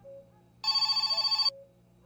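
A telephone rings inside the video game My Summer Car, one short burst of rapid electronic trilling, loud and clear against a quiet low background hum.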